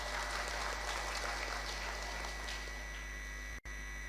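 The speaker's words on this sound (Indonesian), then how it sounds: "Tepuk tangan kangge sadayana." A crowd at the Purwakarta regency anniversary event applauds in a dense, continuous wash of clapping over a steady electrical hum, fairly distant, with a brief dropout near the end.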